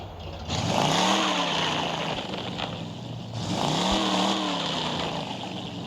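A Chevrolet Impala V8 in the Car Parking Multiplayer game revs up twice in rising and falling sweeps, with a steady engine drone in between, loud and close throughout.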